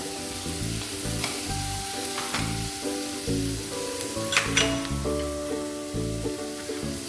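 Beans, carrots and peas fry in a pan for oats khichdi, giving a constant close sizzle with occasional stirring scrapes, heard beneath steady background music.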